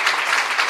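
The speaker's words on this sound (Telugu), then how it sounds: "యేసయ్యకి గట్టిగా చప్పట్లు కొట్టి ప్రభుని స్తుతించుదాం" Church congregation at a Saturday morning gospel meeting in Bengaluru clapping loudly and steadily in praise, a dense continuous wash of hands with no voices over it.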